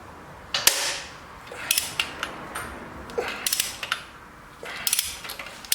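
Bolts come out of a 1981 Pontiac Trans Am engine during an engine swap. Sharp metallic clicks and ratcheting bursts come in irregular clusters, close and fairly quiet against a low background hiss.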